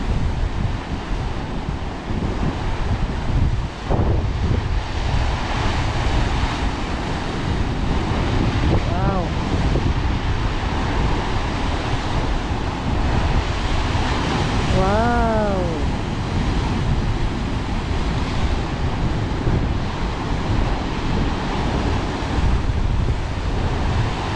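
Waves surge against the rocky shore at Cape D'Aguilar in a continuous loud roar of surf, buffeted by strong wind noise on the microphone.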